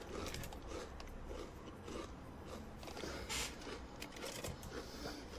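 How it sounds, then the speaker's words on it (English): Someone crunching on potato chips, with dense, irregular crisp crackles close up that carry on through the whole stretch and sit over a steady background hiss. "So now you see him crunching on the chips right now."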